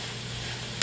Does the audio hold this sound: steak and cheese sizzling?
yes